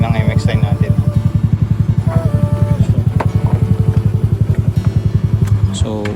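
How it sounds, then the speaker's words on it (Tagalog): A Yamaha Mio MXI scooter engine fires up and runs with a steady, rapid put-put pulse, loud and close, carrying on alone throughout without any voices. "Start agad si MXI natin."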